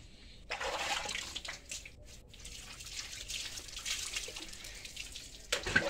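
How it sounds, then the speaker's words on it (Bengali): Hot water being drawn for a bath, a continuous close splashing and trickling flow with uneven surges and brief drips, heard alone without talk. "এখন জল তোলা হচ্ছে, তো জলটা খুব গরম"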